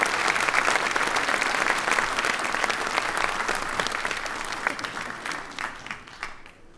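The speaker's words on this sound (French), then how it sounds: "Je vous demande de les applaudir, s'il vous plaît" An audience at a New Year's greetings ceremony for a French public official applauds steadily and loudly throughout, a dense wash of clapping that fades slightly toward the end.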